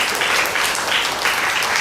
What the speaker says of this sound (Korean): 박수 쳐주겠습니다